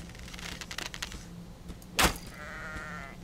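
A sheep in the game Reign of Kings gives a short bleat at mid-range, set among game ambience, brief clicks and a steady background hum, with no talking over it.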